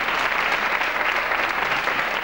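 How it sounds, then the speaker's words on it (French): A studio audience at a French television show claps steadily in dense, sustained applause with no pauses. "Vous pouvez les applaudir avant"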